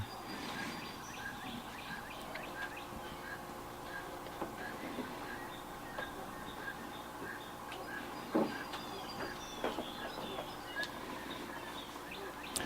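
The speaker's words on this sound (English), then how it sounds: "You can hear all the birds chirping" Birds chirp and tweet intermittently against a steady outdoor background hum, with a few sharper knocks and scrapes nearby.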